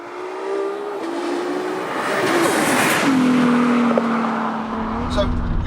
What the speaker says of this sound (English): And the car sounds crazy too. It almost sounds like a Formula 1 car or something.